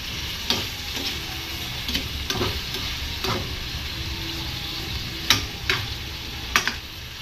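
A sautéed mixture of aromatics sizzles steadily in a pan before broth is added, with a utensil scraping and tapping the pan at irregular intervals, close and moderately loud.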